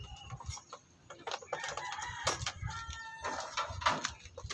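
A gamecock rooster clucks and calls in short bursts close by, with other fowl noises and some crowing-like cries scattered through, over a breezy outdoor background.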